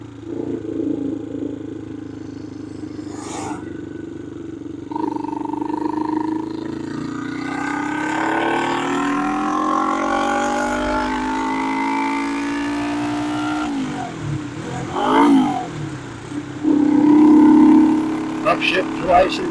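A 1972 Honda CB450 motorcycle engine runs up close through gear changes, its roar climbing and dropping in pitch, with louder throttle bursts toward the end.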